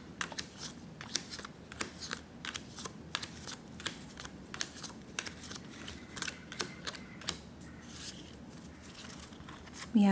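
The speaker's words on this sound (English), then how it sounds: "Okay, this is our 3rd shuffle." Playing cards are handled and shuffled for a tarot-style reading in a steady series of quick, crisp riffling clicks and snaps, close and moderately loud, with a brief voice at the very end.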